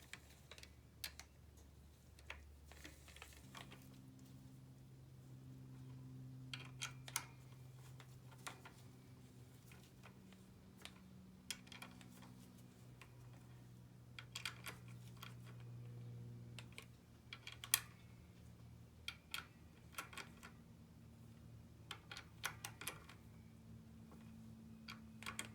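Screws being run down with a speed wrench during clutch installation on a Honda CB750 Nighthawk, heard as a steady series of light, close ticking clicks over a low background hum, with no talking.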